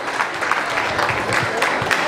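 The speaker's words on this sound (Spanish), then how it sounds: "Fuerte el aplauso" Audience applause at a cultural gathering in Cherán, Michoacán, a steady mid-level patter of clapping from a crowd, with faint voices mixed in beneath it.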